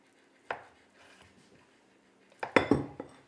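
Knife slicing through ham and cheese filled bread dough on a board, one sharp clunk and then a quick cluster of scraping, clattering cuts, close and fairly quiet.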